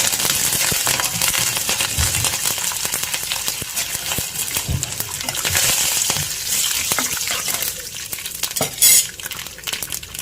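A tempering of dried chilies, cumin, mustard seeds and curry leaves sizzles and crackles in hot oil, loud and close, with a spoon stirring and scraping against the pan and occasional sharp pops.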